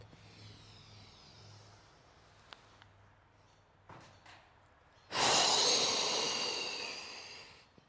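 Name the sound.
breathing exercise, exhaling through the mouth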